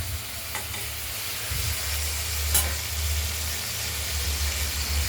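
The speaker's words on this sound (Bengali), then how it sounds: "আমরা আরেকবার নেড়ে দিলাম" Ridge gourd with poppy seed paste being stirred in a pan, a steady low sizzle with soft scraping strokes running continuously throughout, close and moderately loud, no voices.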